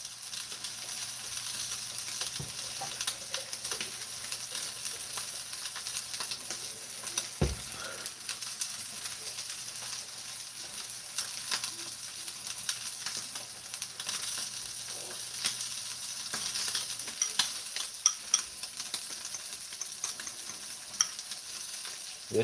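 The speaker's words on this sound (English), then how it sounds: "and then I'm gonna flip it, sear the other side, and then I'm gonna try to sear the edges" A 3 lb tomahawk ribeye steak searing in a pan, a steady close crackling sizzle that runs throughout with occasional pops and a couple of brief knocks; no talking.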